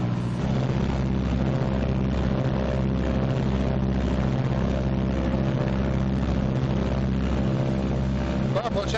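Both engines of a 1944 B-26 bomber run up together to about 1,800 RPM, producing a loud, steady, close droning roar with strong pulsing harmonics throughout.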